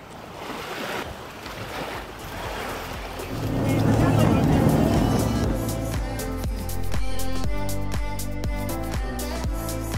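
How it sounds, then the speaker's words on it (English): A large powerboat's engine rumbles and builds as it approaches a marina in the Exuma Islands, Bahamas, over wind and surf, with steady tonal drone and people chatting nearby. "Look at that great big boat coming in."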